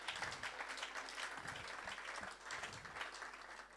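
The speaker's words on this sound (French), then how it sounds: "Est-ce qu'on peut acclamer ces dieux?" A congregation at a church service claps and cheers, and the applause holds steady and dense throughout at a moderate distance.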